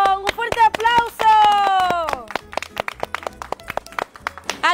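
A crowd applauds a talent show winner with a burst of rapid, dense clapping that starts after a voice speaks over the opening and carries on to the end.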